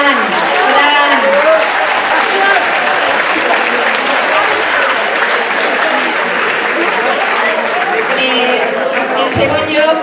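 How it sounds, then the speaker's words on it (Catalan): Students finishing fourth year of ESO get sustained, loud applause at their 2023 graduation ceremony. The dense clapping runs the whole time, and a voice briefly cuts through near the end. "demanar un fort aplaudiment per a tots aquests xiquets i xiquetes que se ho mereixen"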